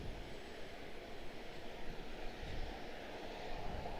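A jet airliner departing on its takeoff roll at Washington Dulles, a steady distant engine roar with a low rumble under wind noise, heard alone.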